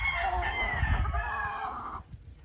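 A single game farm rooster crows nearby, one long drawn-out call lasting about two seconds, then trailing off into quiet.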